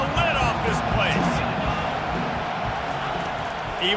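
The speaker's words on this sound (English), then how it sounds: "Third down, and this crowd is tearing the lid off this place." A packed stadium crowd roars continuously during third down of a Gators versus Hurricanes college football rivalry game, a dense wall of cheering and shouting under a commentator's voice.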